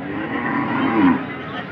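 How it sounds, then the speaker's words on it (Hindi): Buffaloes at a large livestock market in Dera Ghazi Khan, Pakistan, with low lowing and a steady murmur of animals and crowd close by, mixed with background voices. "ये भैंसों के एरिया में आए हुए हैं। भैंसें भी हैं बड़ी यहाँ पे"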